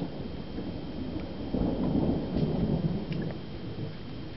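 Steady wash of heavy rain at night with a low, rolling rumble swelling in the middle, like a downpour during a thunderstorm.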